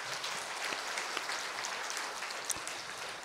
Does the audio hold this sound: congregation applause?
yes